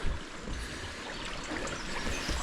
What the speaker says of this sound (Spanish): por aquí sigue el río